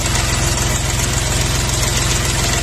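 A Jinma 24 hp minitractor diesel engine idles close by with a steady, rapid low knocking throb, loud and even throughout with no voices.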